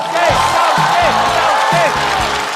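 A studio audience at a stand-up comedy show roars with sustained applause and cheering to welcome a performer, loud and continuous, with voices rising in a rhythmic shouted chant over the clapping.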